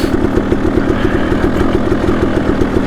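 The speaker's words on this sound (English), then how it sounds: "letting it freewheel so we're not over revving the engine without any throttle" A 2014 KTM 300XC two-stroke dirt bike freewheels with the clutch pulled in on a Payson Canyon trail ride, its engine idling close and loud with a rapid, even pulsing beat.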